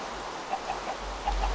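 Soft, repeated clucks from chickens in Minecraft, several short calls spaced through the moment over a steady background hum.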